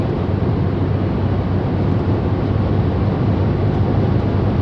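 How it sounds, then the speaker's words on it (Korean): A 2013 Korando Sports with a 2.0 diesel engine drums steadily from inside the cabin while driving, a dense, even low rumble mixed with road noise. No one speaks. "엔진 소리랑 나가는 주행 감각이랑 이런 것들이 좀 어떻게 호, 호환이 됐는지 체크를 한번 해주시기 바랍니다."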